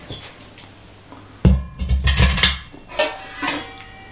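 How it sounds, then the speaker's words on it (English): An antique low-end Jambati singing bowl tuned to E2 is struck once, ringing out with a loud, buzzing, rattly low tone that sustains and pulses after the hit; it is preceded by a quiet stretch. "Really rattly bowl, this one. So these are low-end Jambati."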